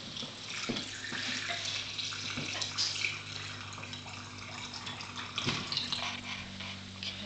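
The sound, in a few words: brine poured into fermenting jar over rocks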